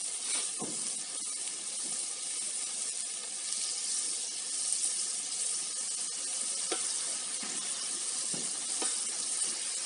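Pieces of sac kavurma meat sizzle steadily in a hot pan, a constant frying hiss with occasional brief crackles and stirring clicks, close and continuous with no talking.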